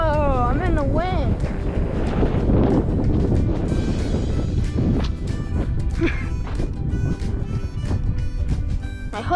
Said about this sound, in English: We're getting in the windy part.